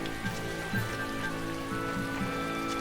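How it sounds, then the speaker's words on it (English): Rain falls in the video game Tales of Berseria, a steady pattering hiss with scattered drop taps, set under a faint sustained musical drone, moderately loud and unbroken throughout. "It rains so much in Westcan."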